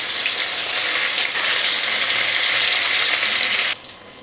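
Pieces of katla fish fry in hot oil after being flipped, a loud, dense, continuous sizzle close by that cuts off abruptly near the end.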